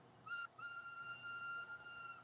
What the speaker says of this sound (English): Here's a whistle.